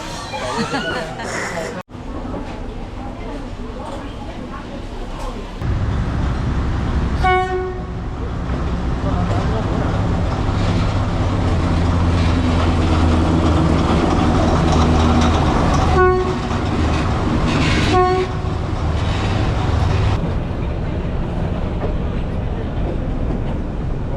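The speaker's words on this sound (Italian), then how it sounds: "un treno che passava dentro la città e questo è un altro" A train running through a city rumbles past close by with a steady clatter, sounding its horn several times in short blasts, while people talk underneath.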